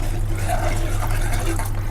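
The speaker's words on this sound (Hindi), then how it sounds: "अब इसमें पानी ऐड कर देते हैं।" A brief steady pour of water into a pot of cooking arhar dal, close and fairly loud over a low background hum.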